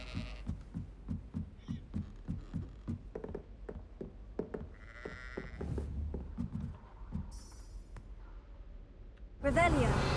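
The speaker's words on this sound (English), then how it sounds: "How come I can hear goats?" Goats in the Hogwarts Legacy video game give faint bleats under a steady run of thumping footstep-like beats and other game sounds, with a voice heard too.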